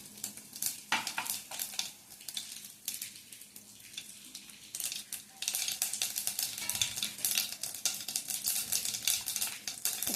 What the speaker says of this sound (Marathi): तेल चांगलं गरम झालं की त्याच्यामध्ये जिरं मोहरी घालून फोडणी द्यायची आहे